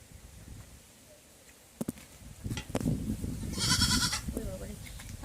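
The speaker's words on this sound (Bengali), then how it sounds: "ঘরে ছাগলগুলো আছে গো।" Goats kept inside a cyclone-damaged house bleat loudly and close by after a quiet start and a few sharp knocks, while a person talks nearby.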